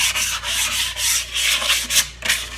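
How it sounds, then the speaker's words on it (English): Fine grit sandpaper rubbed lightly over the cylinder bore of a Perkins 152 engine in a Massey 231 tractor, a close steady rasping in repeated back-and-forth strokes with no talk. "We're going to use fine grit sandpaper. Give the cylinder bore just a slight, light rub,"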